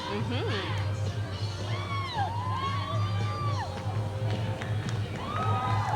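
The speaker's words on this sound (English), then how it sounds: "I hear some cheering, David." A lively outdoor crowd at a street parade whoops and cheers, with shouting voices rising and falling over a steady low rumble.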